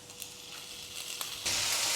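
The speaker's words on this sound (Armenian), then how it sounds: "եթե հավի կրծքամիսը մանր կտրտենք, ավելացնենք բուսաեղով տապակի մեջ, տապակենք բոլոր կողմերից" Small pieces of chicken breast fry in vegetable oil in a pan, a soft steady sizzle with a couple of light taps, swelling abruptly into a louder, bright hiss near the end.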